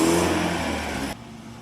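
An old Land Rover engine strains loudly as it revs up a soft sand dune, a brief, close, steady roar that suddenly drops away.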